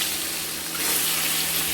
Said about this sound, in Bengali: ডিমগুলো ছেড়ে দিলাম। দিয়ে আমরা ডিমগুলোকে সুন্দর করে ভেজে নেব।